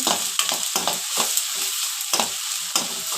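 Onions and chilies fry in a pan under steady loud sizzling, while a spoon stirs them in repeated scraping strokes roughly every half second.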